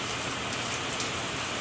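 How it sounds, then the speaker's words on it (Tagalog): Steady rain falling on surfaces during the May rainy season in Quezon, a soft, even hiss of drops that stays continuous and fairly faint, with no voices. "Ay bigla naman pong umulan."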